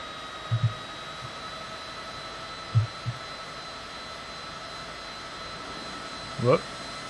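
Simulated Heinkel He 162 jet engine in Flight Simulator 2020, a steady, fairly quiet turbine whine with a few soft bumps over it. No clear rise in pitch is audible.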